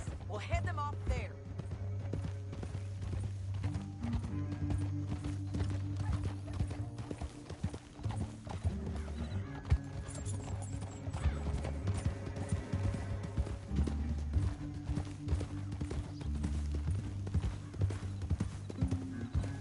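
Horse hooves clip-clop at a gallop in the video game Red Dead Redemption, a fast continuous rhythmic pounding with occasional whinnies, set against game music and character dialogue.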